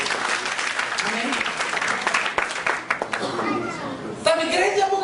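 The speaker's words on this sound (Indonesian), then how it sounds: "beri tepuk tangan yang berbeda buat kita" A church congregation claps in brisk, dense applause mixed with voices and some cheering, tapering near the end as scattered calls and talk rise.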